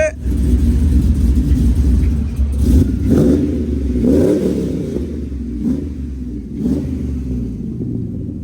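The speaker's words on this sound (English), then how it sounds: "We're gonna have Guido right now rev it, guys" A car fitted with a full exhaust system revs repeatedly, deep rumbling bursts rising and falling over a steady low idle, loud and close, with people talking over it.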